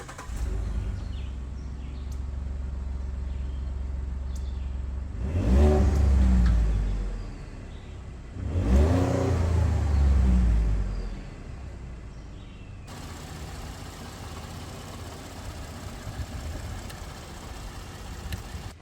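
A Ford F-150 pickup with a 3.5-liter EcoBoost V6 runs at a steady idle, rising twice into loud revs that fall away again before the engine settles back to a quiet hum.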